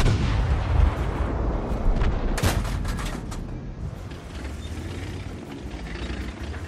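Tank cannon fire and shell impacts in the World of Tanks video game: a dense, rumbling barrage of booms with one sharp loud blast partway through, over continuous battle noise.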